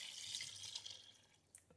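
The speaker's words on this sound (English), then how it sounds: "So go ahead and add 2 cups of chicken broth" Chicken broth pours briefly into a pressure cooker with a soft, faint splashing trickle, nearby and alone.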